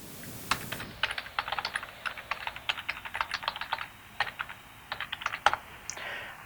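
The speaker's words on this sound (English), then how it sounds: "I typed out my email address on the top line." Keys clatter on a computer keyboard as an email address is typed, a rapid, uneven run of close, crisp clicks in quick bursts with short pauses, in a quiet room without speech.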